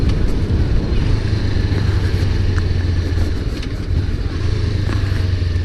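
A lightweight, lowered motorcycle engine runs close by with a steady, loud rumbling drone and slight clatter, holding an even note throughout.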